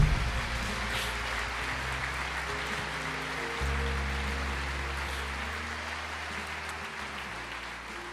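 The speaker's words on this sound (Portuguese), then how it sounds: "aplauda o Senhor," A church congregation applauds during a sermon, a steady, fairly faint wash of clapping that continues throughout over a low organ or keyboard drone.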